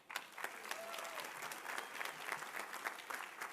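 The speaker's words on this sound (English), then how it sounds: "please give yourself a huge round of applause" A crowd of graduates' families and friends claps continuously at a University of the Virgin Islands commencement, a dense, even patter of many hands heard at some distance throughout.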